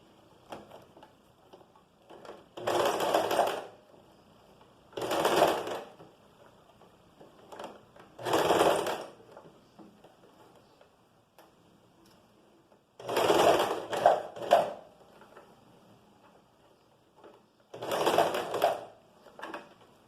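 A sewing machine stitches a seam on a top in five short bursts of rapid mechanical chatter, each a second or two long and separated by pauses, close and fairly loud.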